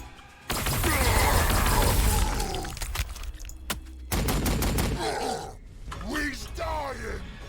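Gunfire in the Warhammer 40k Sanctus Reach video game: a long dense burst of rapid shots, then a second volley after a pause, loud and close, with game sounds and a voice under it.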